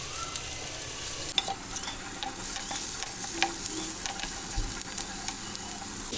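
Capsicum with ginger, green chillies and other vegetables frying in a pan for a pumpkin dish: a steady hiss of sizzling oil, with occasional scraping and stirring knocks.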